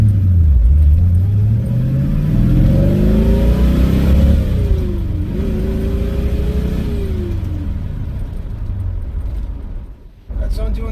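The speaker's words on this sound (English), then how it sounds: "let's hop into the car and see how it sounds to actually drive it." A car fitted with a Magnaflow muffler heard from the cabin with the windows up while driving, a deep exhaust drone rising and falling as the revs climb and drop through the gears, loud and close, with a brief dip near the end.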